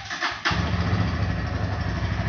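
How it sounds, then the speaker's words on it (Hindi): A Bajaj Pulsar N150 motorcycle (2024 Bluetooth model) cranks and fires up, settling straight into a steady, loud, close idle with a deep, heavy exhaust note, no voices. "स्टार्ट हो गया, आप एग्जॉस्ट नोट सुन सकते हैं एज यूजुअल"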